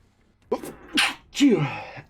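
A single person sneezes, a sharp two-part breathy burst after a brief inhale, close and loud with nothing else around it.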